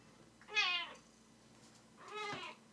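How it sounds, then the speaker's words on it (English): A cat meows twice, close and fairly loud, with a short pause between the two calls over a quiet room background. "You can't just sit here and meow every time we stop talking."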